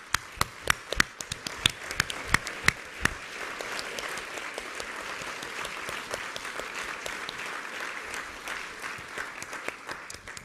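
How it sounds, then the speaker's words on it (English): A crowd at an engineering awards ceremony applauds, opening with sharp, loud individual claps close by that soon merge into a sustained, softer wash of clapping that carries on for about ten seconds. "Let's give them all another round of applause,"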